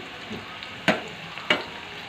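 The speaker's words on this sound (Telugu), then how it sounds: "నేను కొంచెమే కాబట్టి మొత్తం ఒకేసారి వేసి వేయించుకుంటున్నాను" Bitter gourd pieces frying in oil in a single batch, a steady low sizzle with two sharper crackling pops partway through, close and fairly quiet, no voices.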